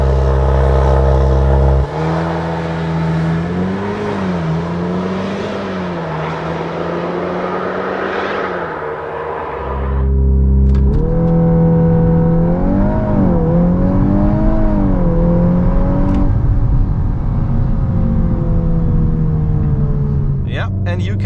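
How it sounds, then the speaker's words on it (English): A Volkswagen Golf 8 R accelerates hard from 0 to 100 km/h, engine rising steadily in pitch through the gears with brief drops at each shift. It is loud and close, with someone talking over the run. "And the next car, of course, Golf 8R, the master now, 0 to 100."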